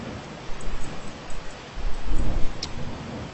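Video game storm ambience from Cataclysm DDA: steady hiss of rain with low rumbling thunder swelling in the second half, moderately loud and without speech.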